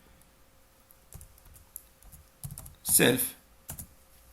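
Code being typed on a computer keyboard, with scattered close clicks and a short rapid burst of keystrokes, while someone speaks briefly.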